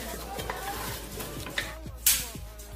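Chicken with annatto sautés in a pot, a steady sizzle under repeated scraping strokes of a spoon against the pot.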